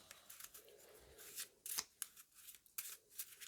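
Pieces from the Tokyo Express board game are shuffled by hand up close, making quick bursts of rustling and clicking that start quietly and grow busier toward the end.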